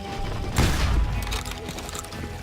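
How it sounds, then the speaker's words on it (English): Gunfire rings out in a street in the Western video game Call of Juarez Gunslinger, a loud burst of overlapping shots followed by a busy, noisy scene. "They're shooting in the street!"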